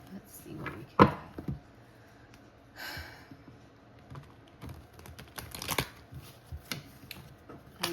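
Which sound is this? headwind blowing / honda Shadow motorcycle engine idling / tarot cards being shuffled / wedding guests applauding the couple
tarot cards being shuffled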